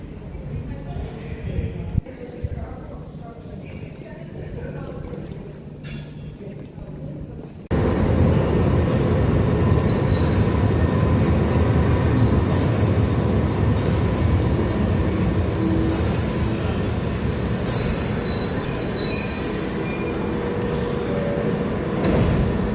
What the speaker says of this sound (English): we're going to get the tube into central London